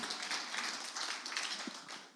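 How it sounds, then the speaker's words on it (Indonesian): Congregation applause during a church worship service, a steady wash of many hands clapping at moderate distance, fairly soft and continuous for a couple of seconds. "beri tepuk tangan buat Tuhan"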